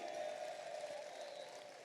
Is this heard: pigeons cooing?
no